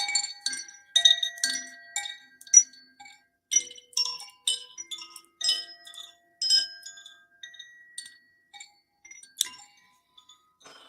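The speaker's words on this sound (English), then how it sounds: "There's two more sound healing instruments that I have. One is this beautiful chimes." Bright metallic sound-healing chimes ring in scattered clusters, shimmering tones overlapping and fading between strikes, fairly close and alone without talk.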